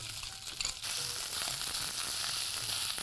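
Soft, sticky basmati rice, cooked in a pressure cooker, is added to garlic frying in a pan, giving a brief clatter and then a steady, close sizzle.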